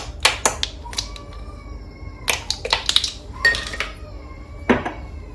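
Dry rock bun ingredients, flour with salt and cinnamon, being mixed in a bowl, giving scattered clinks and scrapes of a utensil against the bowl in short bursts, close and alone.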